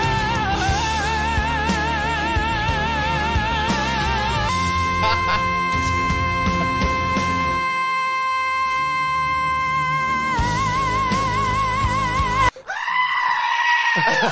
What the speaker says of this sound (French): La machine à cri.